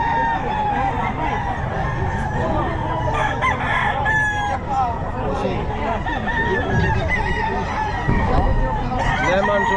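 A Lemon Sweater gamefowl rooster crows repeatedly at a busy pet market, several harmonic calls rising over constant crowd chatter, clucking from other fowl and passing traffic.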